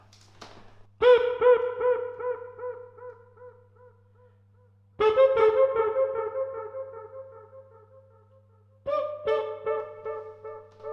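Three buzzy, nasal electric kazoo tones sound in turn through an analog delay, each trailing off through fading repeating echoes, with a low steady hum underneath.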